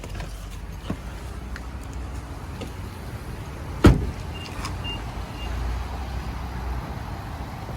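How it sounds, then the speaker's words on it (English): The automatic driver's power window of a 2022 Nissan Pathfinder SV 4WD runs briefly against a quiet car interior, with a sharp click partway through and a soft motor whir afterward. "Driver's window is fully automatic."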